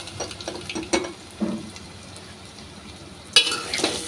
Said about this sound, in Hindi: तेल गरम हो चुका है तो इसमें राई, सौंफ, मेथी दाना ये डाल, तो फिर आलूओं को भी डाल देंगे।